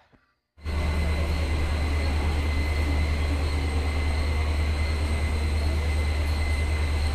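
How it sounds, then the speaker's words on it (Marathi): A train arrives at a station on the Konkan route, a loud, constant low rumble and broadband roar that starts abruptly after a short quiet moment and holds steady throughout. "आली बाबा एकदाची ट्रेन"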